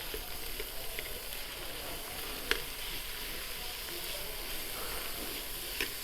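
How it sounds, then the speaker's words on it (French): Minced meat browning in a Cookeo Touch multicooker, a soft steady sizzle close by with a couple of faint taps as a utensil crumbles the meat. "Donc on émiette un petit peu la viande."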